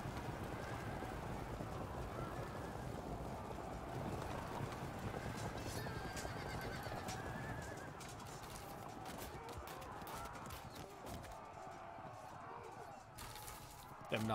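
Medieval knights' horses in the battle strategy game Field of Glory II produce a dense, steady wash of hooves and neighing over continuous battlefield noise, with the level holding fairly even throughout.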